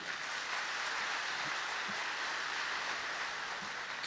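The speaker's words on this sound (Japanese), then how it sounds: "大きな拍手。" Steady, even applause from a concert audience at a band show, a continuous wash of clapping that holds at the same level throughout.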